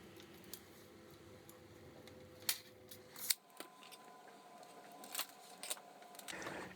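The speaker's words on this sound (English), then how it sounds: "Cut about 50 cm, 20 inches of tube." Scissors snip through plastic irrigation tubing for an indoor drip watering kit, a few sharp, quiet cuts spaced apart against a faint room hum.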